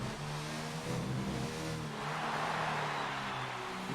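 A Formula 1 race car engine in the video game F1 2019 at the Singapore Grand Prix, a steady buzzing drone with shifting pitch that holds at an even level throughout, with no talking.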